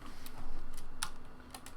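Quiet, fast clicking of keys on a computer keyboard as someone types while programming an experiment in PsychoPy, a short run of light taps with no talk.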